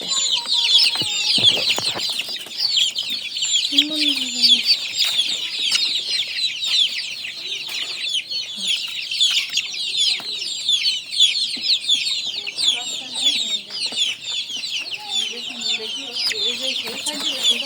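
A flock of desi chickens clucking and squawking continuously, a busy dense chorus of poultry with a rooster-like call standing out briefly.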